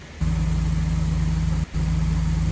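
Game car engine in a GTA roleplay session idles steadily at a low, droning pitch, briefly cutting out once before resuming, loud and close with no voices.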